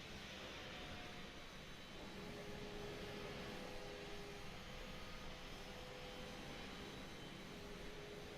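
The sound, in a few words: A320neo jet engine throttling up in Microsoft Flight Simulator 2020 video game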